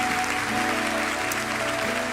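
A church congregation claps briefly as the service closes in prayer, giving a steady wash of applause beneath a sustained tonal hum from the room's music or sound system.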